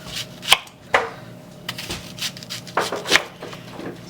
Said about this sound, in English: Cut up onion, we're not going to mince,